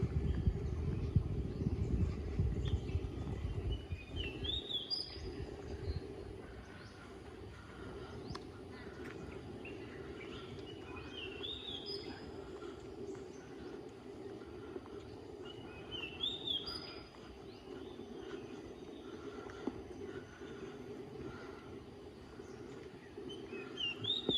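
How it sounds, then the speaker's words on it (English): Birds chirp and sing in short bursts now and then in Penang's botanical garden, over a low outdoor rumble, fairly distant and moderately faint. "it is just beautiful listening to the sounds of the birds."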